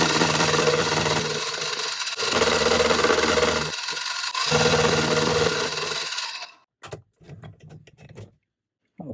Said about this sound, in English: let's run the milling machine